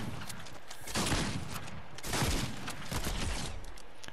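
Sniper rifle fire in a video game: dense, continuous barrage of loud gunfire-like crackle with repeated heavy bursts at a steady pace, no talking.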